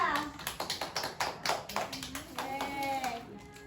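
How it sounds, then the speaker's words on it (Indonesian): Classroom clapping for a student, a few hands clapping in a quick rhythmic pattern that grows into looser applause, with children's and a teacher's voices talking over it. "kasih tepuk tangan buat Reza"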